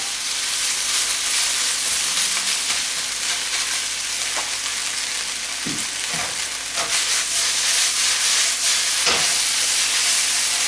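Pork and green chili stir-frying in a wok, a loud steady hiss of sizzling oil filling the whole stretch, with occasional clanks and scrapes of the stirring utensil, no talking.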